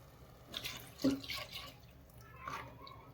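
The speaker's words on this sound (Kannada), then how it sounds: "ಆವಾಗ ಈ ಮಿಕ್ಸಿ ತೊಳೆದಿದ್ದು ನೀರು ಹಾಕೋದು" Water splashes and trickles in short bursts, close by, as water rinsed from a mixer jar is poured into a pan of mackerel curry, with no talking.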